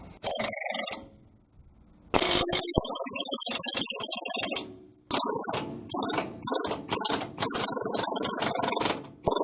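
Bolts tightened on the rear end of a 1970 Impala with a new 12 bolt posi axle, heard as loud close bursts of rapid ratcheting and impact clatter broken by short pauses.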